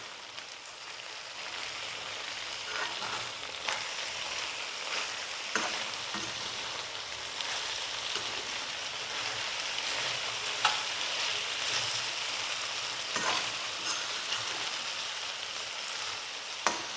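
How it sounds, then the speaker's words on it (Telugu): Brinjal curry with salt and crushed garlic sizzles steadily in a frying pan while a spoon stirs it, and occasional scraping knocks sound against the pan over the continuous frying hiss, with no talking. "వీటిని ఒకసారి కలుపుకుందాం."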